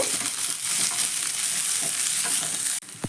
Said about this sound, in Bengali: পেঁয়াজটা দিয়ে দিচ্ছি এক থেকে দু মিনিট মতো পেঁয়াজটাকে একটু ভেজে নেব